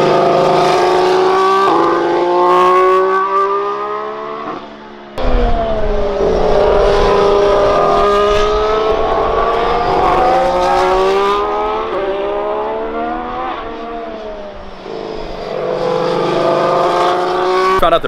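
Formula 1 race cars scream past at the US Grand Prix, loud high-pitched engines rising and falling as several cars pass close in quick succession, with a brief gap between passes.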